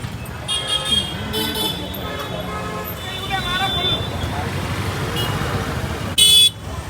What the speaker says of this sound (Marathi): बघा बाजारात असे हॉर्न वाजवतात लोक